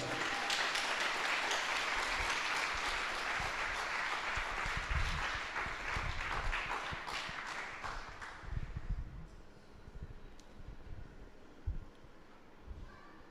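Church congregation clapping hard together during a Telugu Bible study service, a dense, loud burst of applause that gradually thins out into scattered claps and room noise.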